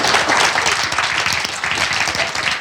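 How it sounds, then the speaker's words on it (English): An audience applauds at a new-talent comics convention panel at Thought Bubble 2019, with brisk, dense clapping from a moderate-sized crowd, steady and fairly close for nearly three seconds. "Round of applause, please."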